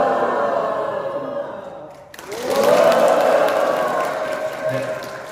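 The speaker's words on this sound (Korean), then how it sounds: "왼손 들면 함성을 질러주십시오." Parish volunteers at a Catholic training event shout and cheer together on cue. The roar of many voices rises abruptly after a brief dip in sound, then stays loud and sustained.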